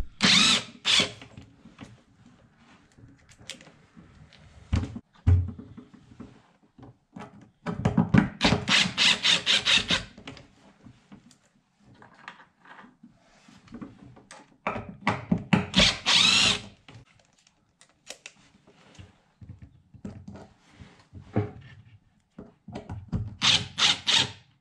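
A power drill backs screws out of wood, sounding in several separate bursts of whirring and grinding with quiet gaps between them, fairly close and with no talk.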